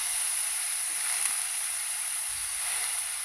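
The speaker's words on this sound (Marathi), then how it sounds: "आता आपण ह्या दोडक्याच्या फोडणी घालून घेत आहोत" Ridge gourd pieces go into a hot tempering with mashed tomato, producing a steady, bright, continuous hiss of sizzling at moderate volume, with no talking.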